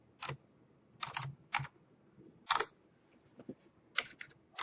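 Keys clack on a computer keyboard in a few short, irregular bursts with quiet gaps between them, close and fairly soft, and no one speaks.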